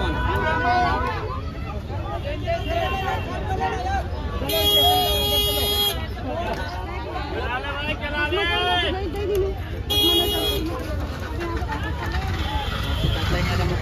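Vehicle horns blare through busy street traffic in two sharp, loud honks set against a constant murmur of traffic and crowd chatter, while people talk nearby.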